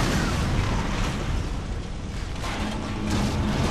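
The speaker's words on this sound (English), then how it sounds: "Oh, explosions." Deep rumbling explosions from the video game Dead Space roar continuously and loudly, a dense low blast texture filling the whole stretch.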